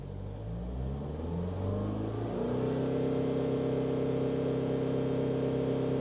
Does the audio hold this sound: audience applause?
no